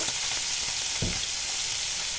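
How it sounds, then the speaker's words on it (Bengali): Taro pieces frying in a pan as water is added for taro curry with puti fish, a loud continuous sizzle with a brief stirring scrape midway. "আমি এখন একটু জল দিয়ে দেব, জল দিয়ে কষায় নেব।"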